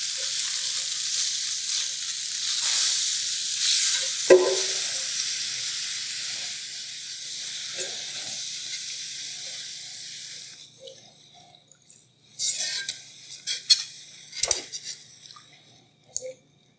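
Whole milk streamed into a butter roux in a pan as part of a chicken fried steak gravy: a steady hissing sizzle that gradually fades, followed by quiet whisk and utensil clinks near the end.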